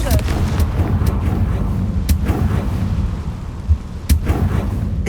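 A Confringo blasting spell goes off in Hogwarts Legacy with a few sharp booming bursts over a steady rumbling game soundscape, one near the start and two more close together toward the end.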